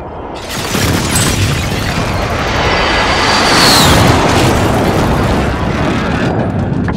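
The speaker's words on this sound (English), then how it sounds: "Bringing down an airstrike" Airstrike explosions in Call of Duty: Modern Warfare, a loud continuous rumble of booms that builds toward the middle and then rolls on, with a faint whistle overhead.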